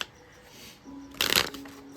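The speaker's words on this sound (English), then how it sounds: "Now I'm gonna shuffle some cards right now" A deck of tarot cards gets a short, crisp riffle shuffle close by, a brief flurry of flicking card edges over quiet room tone.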